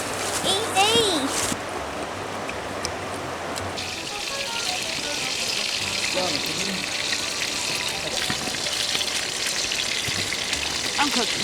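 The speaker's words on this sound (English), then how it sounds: "I'm cooking bacon." Bacon frying over a campfire in the Southern Appalachian Mountains, a steady crackling sizzle under a voice talking at times.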